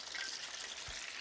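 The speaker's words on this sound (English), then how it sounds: "While the wings are frying" Chicken wings fry in hot oil on a stovetop, kept at about 325 to 350 degrees, giving a steady, faint, even sizzle with no talking.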